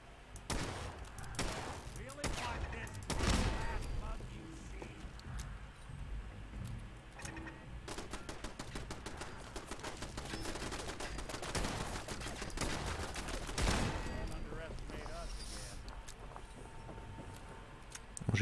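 Rapid gunfire from a weapon in Fallout 4 rattles out in repeated bursts and single cracks over about eighteen seconds, loud and close, with game ambience between volleys.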